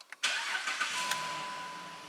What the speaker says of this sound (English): So crank, run, and stall.